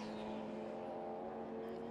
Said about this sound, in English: There is Murray just coming through turn 17 in that white BMW.